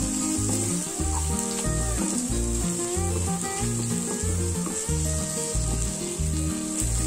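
Okra coated in gram flour fries uncovered in a pan over a medium flame, a steady, loud sizzle running throughout with background music.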